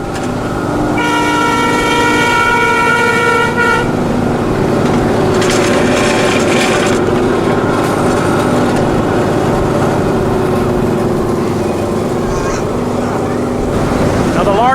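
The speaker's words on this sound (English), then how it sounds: "the Largo Central Railroad doesn't go very fast" A ride-on miniature train on the Largo Central Railroad in Largo, Florida rumbles steadily along close by, with a sustained horn toot early on and a second whistle-like burst midway, over constant wheel and track noise.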